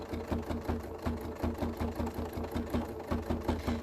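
Close, steady whir of a sewing machine stitching along the edge of stamped fabric, its needle thumping in a quick even rhythm for several seconds with no voices.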